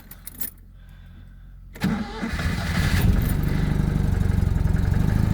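A Citroen 2CV engine cranks and catches on a cold, snowy day with fresh spark plugs, a brief whir after a click, then settling into a close, loud, steady rhythmic idle.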